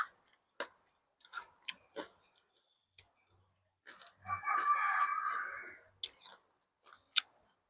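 Close-up crunchy chewing of fried okra with sharp bites and clicks, a longer grinding crunch in the middle, otherwise quiet between bursts.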